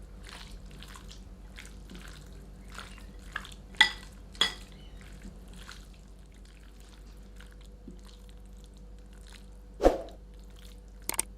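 Chicken is mixed into marinade in a bowl, giving soft wet squelches and stirring, with a few sharp clinks of utensil against the bowl spread irregularly through the quiet.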